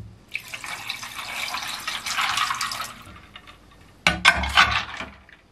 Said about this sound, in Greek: και θα προσθέσω και νερό.